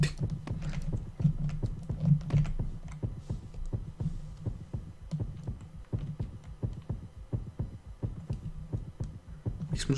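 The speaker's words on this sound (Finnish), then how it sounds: "Miksi mun sydän sykkii?" A heartbeat effect in the video game 7 Days throbs in a steady, repeating rhythm of close, soft low thuds, with faint talk in the background.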